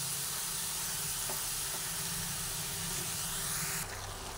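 A spice mixture sizzling while it is stir-fried in a pan: a close, steady hiss that runs unbroken throughout, with a slight shift in tone near the end.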